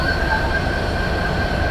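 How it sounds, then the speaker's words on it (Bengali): A Dhaka to Panchagarh train waits at the station, with a loud, steady mechanical rumble and a faint high metallic whine held throughout. "কিছুক্ষণের মধ্যে ট্রেনটি ছেড়ে যাবে"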